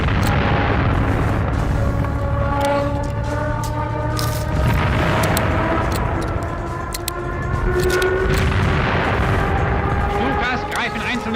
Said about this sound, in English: Ein großes Werk wird bombardiert.